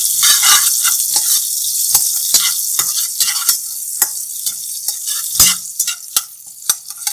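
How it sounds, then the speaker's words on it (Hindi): Cumin seeds roast in oil in a pan, giving a steady bright sizzle broken by sharp clicks and scrapes of a spoon stirring, close and clear with no voices. "अब एक पैन लेंगे जिसमें 2 खाने के छोटे चम्मच हमने ऑयल डाला है और इसमें जीरा डाल देंगे। जीरा को थोड़ा सा भून के"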